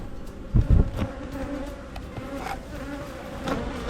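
Honeybees hum and buzz steadily close by during a spring hive inspection, with a few soft knocks of frames being handled early on.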